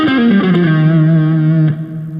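A distorted electric guitar plays a short lick from a song, a few quick notes settling into a sustained, heavily saturated held note with reverb that fades slightly at the end.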